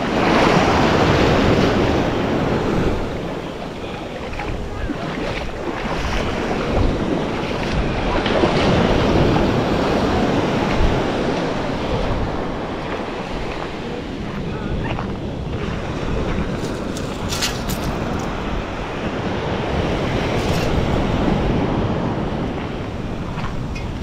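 Waves wash and break on a beach in a continuous roar, swelling and easing in slow surges, with strong wind buffeting the microphone throughout.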